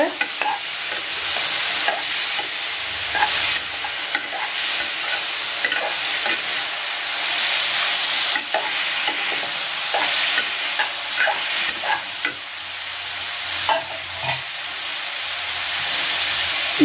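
Steady sizzling and hissing of halved seedless grapes frying in a pan, with occasional stirring scrapes and clicks, fairly close and continuous throughout.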